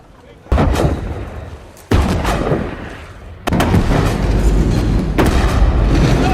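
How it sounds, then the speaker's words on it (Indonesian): Ship's cannons fire during gunnery practice at sea, three heavy booms at irregular intervals, each rolling into a long rumbling decay, loud and close, with some indistinct voices underneath. "menyuruh semua kru meriam untuk latihan menembak"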